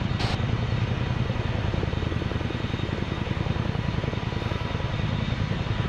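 A Chinook helicopter in the video game ArmA 3 thrums loudly and continuously, its dense rotor beat and engine drone holding steady and close throughout.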